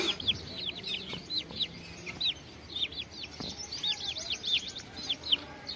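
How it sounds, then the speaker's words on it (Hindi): A hen feeding her chicks outdoors gives soft, repeated low clucks while the chicks keep up a steady stream of high, rapid peeps close by. "इधर जो मुर्गी अपने चूचे साथ में लेके ना इनको चुगवा रही है।"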